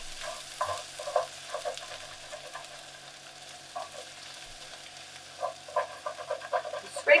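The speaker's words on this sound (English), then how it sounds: "I'm going to stir them." Flatbreads frying in a pan are stirred and scraped, with an ongoing quiet sizzle. Irregular soft scrapes and clatters come in clusters, growing busier toward the end.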